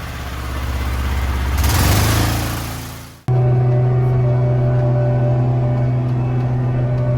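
A crop sprayer engine revs up while spraying corn, holding nearly 500 gallons. A loud roar climbs and then drops away abruptly, and a steady humming drone takes over close by.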